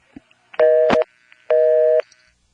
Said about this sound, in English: the trunk goes back on hook during the first impulse of the busy signal